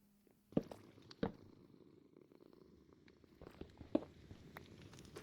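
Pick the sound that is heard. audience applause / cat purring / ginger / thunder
cat purring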